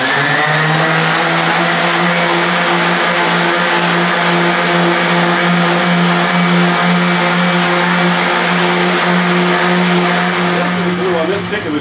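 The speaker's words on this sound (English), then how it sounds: "I use my favorite tool, my Porter cable rotary sander." A Porter Cable rotary sander whirs loudly and steadily against a guitar inlay, a sustained high-pitched motor whine held close for nearly twelve seconds with no talk.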